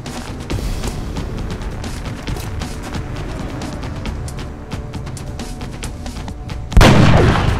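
Gunfire in the turn-based strategy game X-Com Enemy Unknown arrives as a rapid run of sharp shots and booming impacts, ending in a louder burst, with no voices.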